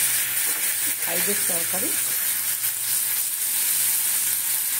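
Water poured into a hot pan of boiled potato curry sets off a continuous hissing sizzle that holds steady throughout. Someone speaks briefly over it near the start.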